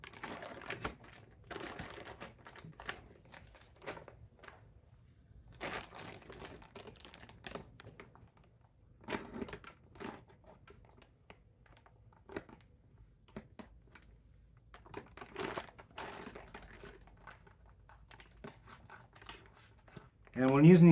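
An X-Acto knife blade pokes holes into a plastic mushroom grow bag, making faint, scattered ticks and crinkly taps in irregular bursts, quiet and close, with a voice speaking at times.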